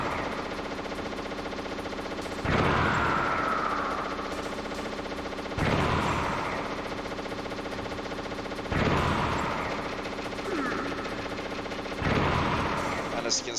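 Four grenade explosions in a video game boss fight, each a loud burst with a decaying tail, spaced a few seconds apart over a steady background hum.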